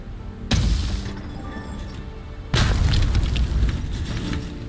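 Electricity set beside gas in the game PileUp! sets off two heavy booming explosions about two seconds apart. Each is a loud, close blast with a rumbling crackling decay.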